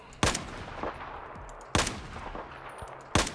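Three sharp, loud gunshots in Battlefield 4, evenly spaced about a second and a half apart, each with a short echoing tail over low background battle noise.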